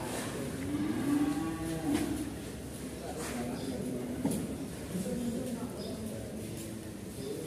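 A jumbo cattle at a cattle contest lows in long, deep, drawn-out moos, moderately loud against a noisy crowded outdoor background, with people talking nearby.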